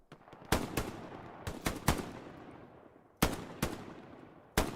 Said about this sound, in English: they just keep firing on these poor guys